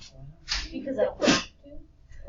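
A person sneezes once, sharply and close, in the middle of a classroom. Brief talk comes just before and after it.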